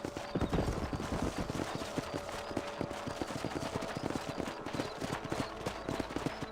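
Rapid clip-clop of horse hooves at a steady gallop rhythm in the video game Red Dead Redemption, fairly close, with a faint underlying hum and no voices.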